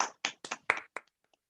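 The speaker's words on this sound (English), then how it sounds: "Can we just have a round of applause here?" A handful of separate hand claps, about six sharp strikes spaced unevenly and trailing off, close and quiet with no crowd around them.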